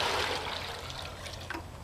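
Water sloshes and splashes in a bucket as a dog's paws are washed, a close, continuous wash of swirling water lasting under two seconds.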